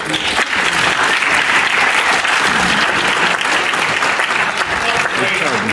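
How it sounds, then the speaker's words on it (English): An audience at a public debate gives a round of applause for the panel and moderator, a dense, steady clapping that holds loud and close throughout. "give one more round of applause for our panel and for our moderator, Dr. Oliver."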